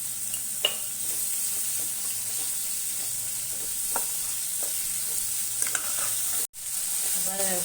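Onions sautéing in a pan with salt for pori arisi upma, a steady close sizzle with occasional scraping stirs, broken by one brief dropout near the end.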